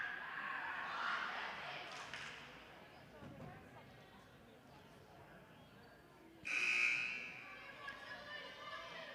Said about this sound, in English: There's the first buzzer.